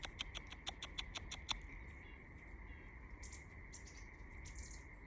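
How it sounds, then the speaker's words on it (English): Birds chirp in the trees on a nature walk in the Pacific Northwest, with a quick run of sharp repeated chirps at the start, then fainter scattered calls over a steady insect-like drone. "we have a whole bunch of different kinds of birds in the trees right now"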